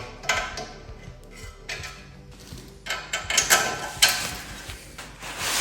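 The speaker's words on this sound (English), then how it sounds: "Now we reinstall that pinch bolt. That pinches in the lower control arm." A ratchet tightening the pinch bolt on a 2014-or-later third-generation MINI Cooper steering knuckle, heard close as bursts of quick clicking that come in irregular runs, with no talk.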